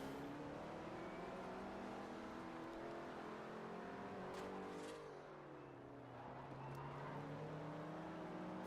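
In Forza Horizon, a car engine drones loudly and steadily, its pitch sliding down and back up as it shifts and accelerates, running almost without a break.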